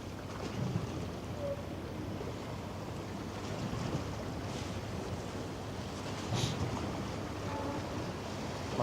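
A wave striking the hull of the MSC Preziosa cruise ship at sea, a broad steady rush of water and wind with a couple of slightly louder surges, no voices.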